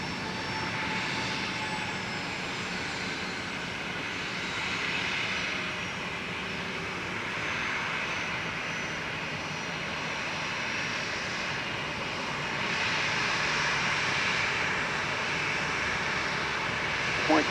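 Jet airliners at Minneapolis–St. Paul Airport give a steady, broad roar of engines that holds at a moderate distance and swells slightly toward the end.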